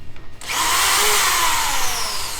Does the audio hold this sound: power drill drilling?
yes